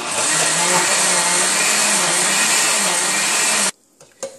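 A mixer grinder grinds soaked moong dal into dosa batter with a loud, steady, high whir that runs for nearly four seconds, then stops abruptly and leaves a few small clinks.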